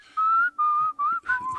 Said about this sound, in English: Give us the whistle again